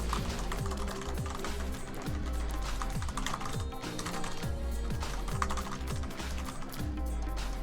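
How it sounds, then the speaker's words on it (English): Computer keyboard keys clack rapidly and continuously, close and fairly loud, over steady music with a rhythmic beat running underneath. "you don't want the keyboard clacking to drown out the music"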